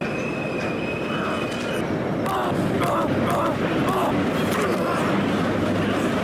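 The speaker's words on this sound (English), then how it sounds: "the train starts to move, and we hold on for dear life as we maneuver through the tunnels" A train carriage rattles and rumbles steadily through tunnels in the horror video game Condemned: Criminal Origins, with a loud, continuous roar and a few sharp clanks and a crowd-like din layered throughout.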